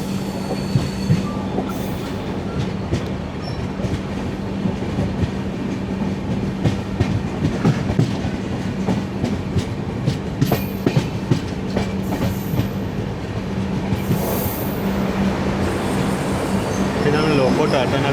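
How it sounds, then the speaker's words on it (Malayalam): The Ernakulam–Tatanagar Express 18190 rolls past on the rails with a continuous rumble, rhythmic wheel clatter over rail joints and occasional brief squeals, loud and close throughout. "പറഞ്ഞ പോലെ തന്നെ എറണാകുളം ടാറ്റാനഗർ എക്സ്പ്രസ് ആണ് 18190"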